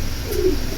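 A single soft coo from a Giribaz pigeon pair, short and close, over a low background murmur.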